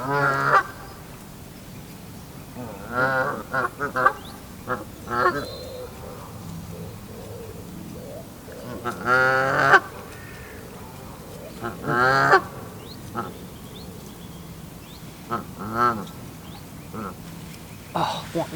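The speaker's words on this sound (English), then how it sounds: "Geese have moved round again." Geese honk repeatedly at a lakeside stillwater fishery, clusters of nasal calls at moderate distance that come in bursts with quiet gaps between, over faint outdoor background.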